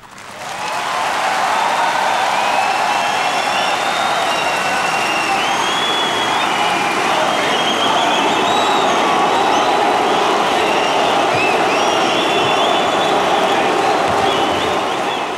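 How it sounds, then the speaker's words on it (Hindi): A large crowd applauds continuously as Modi comes on stage, dense clapping swelling in after the first second and holding loud and steady throughout. "तालियों की गड़गड़ाहट के बीच मोदी मंच पर आए"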